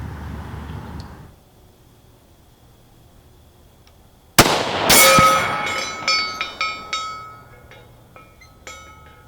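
A single sharp, loud rifle shot fired at a 400-yard target cracks out mid-clip after a quiet pause, followed by a ringing echo and a few fainter clinks and knocks as it fades.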